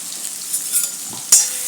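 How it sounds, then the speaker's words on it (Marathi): Finely chopped onions go into hot oil for a potato masala sandwich, a soft frying hiss with faint stirring scrapes and one sharper clink near the end. "कांदा थोडासा याच्यावरती परतून घेऊया"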